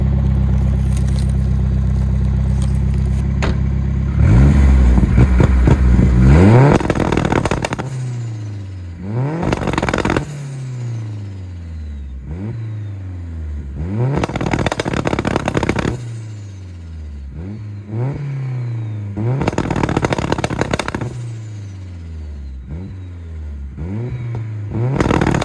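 A K24-swapped turbocharged RX7 running MaxxECU antilag: loud idle, then repeated sharp revs that rise and fall, each followed by crackles and pops from the exhaust, heard up close with no talking.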